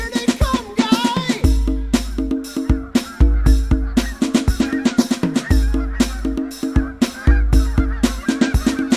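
Geese honking in a goose-hunting song: repeated loud honks and squawks from a flock, layered over a rhythmic musical beat with low bass pulses throughout.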